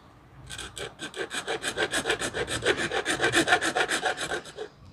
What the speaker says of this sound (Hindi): इधर का थोड़ा घिस डालेंगे इधर, तो ये होल्डर इसके अंदर फिक्स हो जाएगा।